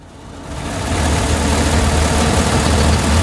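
Synthesized car engine from Krotos Igniter revving under acceleration, rising from a quiet start into a loud, sustained, rumbling roar with a strong low end, and no voices.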